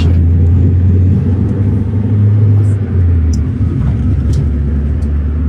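Steady low engine rumble and road noise from inside a taxi driving the 50-kilometre road from Persepolis back to Shiraz in Iran, continuous and loud throughout with faint background voices.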